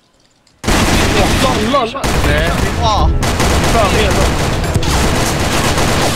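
Dense video-game gunfire from a team match bursts in after a short silence, a loud continuous volley of rapid shots lasting several seconds, with a player's brief exclamations over it.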